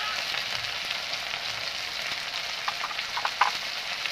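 Potatoes fry with turmeric in an oiled pan, giving a steady hissing sizzle with light pops and crackles near the end, close and moderately loud.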